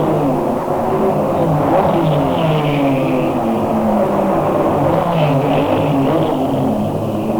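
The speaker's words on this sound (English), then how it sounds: "there's a race underway, and it does make things a little bit noisy right here directly next to the track" Race car engines drone past nearby during the 1990 Denver Grand Prix, heard right beside the track, a continuous whirring roar with shifting engine pitches blending together, steady and loud with no talking.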